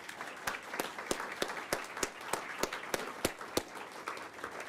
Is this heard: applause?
yes